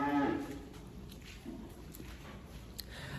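A cow lowing inside a farm shed, one low moo at the start, then quieter shuffling and small knocks around the shed.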